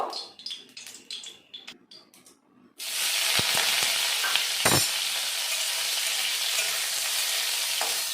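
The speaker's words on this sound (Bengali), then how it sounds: "মাছগুলো আমি ভেজে নেব" Fish hitting hot mustard oil in a wok, a sudden loud, close, continuous sizzle that bursts in after a few seconds of quieter kitchen clatter, with a brief sharper spatter partway through.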